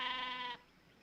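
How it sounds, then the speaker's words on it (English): A single sheep bleat, a bright, harmonic, wavering cry lasting about half a second before dropping to quiet background. "They're sheep."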